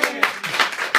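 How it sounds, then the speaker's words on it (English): A few scattered hand claps from a comedy club audience, landing as sparse, separate slaps in a brief moment rather than a full round of applause. "Round of applause, please."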